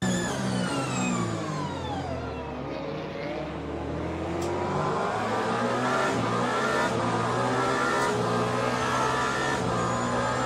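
Inside a Porsche race car in the video game Le Mans Ultimate, a loud engine drones continuously, its pitch sweeping up and down as the car accelerates and eases off, with no voices over it.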